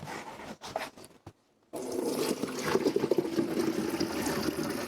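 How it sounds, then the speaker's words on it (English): Boiling water from a pot of potatoes pours into a colander in a kitchen sink, a gushing, splashing stream that starts after a short pause and continues steadily. "we're going to go ahead and drain these into the colander"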